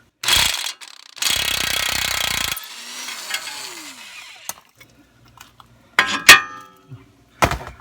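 A ratchet works a 21mm bolt on a Chevy Trailblazer front end, with loud harsh bursts of metallic clicking and grinding, a pause, then sharp clanks and rattles close up.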